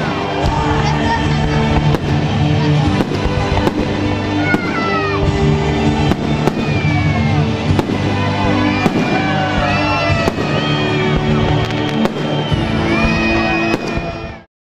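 A fireworks display after a large bonfire at an outdoor fair, a loud dense run of repeated bangs and crackling bursts with whistling rockets, over a murmuring crowd, lasting continuously before fading at the end.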